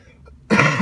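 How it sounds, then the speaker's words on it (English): A single harsh cough, close and loud, follows a brief quiet moment. "So excuse me if I cough."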